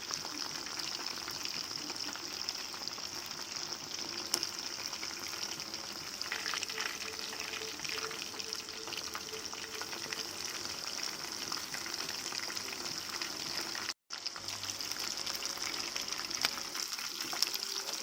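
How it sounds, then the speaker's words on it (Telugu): Chicken leg pieces fry in a pan with a steady, soft sizzle of hot oil, and occasional scraping as a ladle turns them over, with no talking. "ఈ విధంగా గరిటతో తిప్పుకుంటూ రెండు వైపులా అయితే ఇలా ఫ్రై చేసుకోవాలి"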